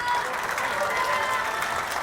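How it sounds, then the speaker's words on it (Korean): Warm applause from residents gathered at a community meeting with party leaders and lawmakers, a dense, continuous patter of many hands clapping at moderate distance. "퇴장하실 때 큰 박수로 환영해 주시기 바랍니다"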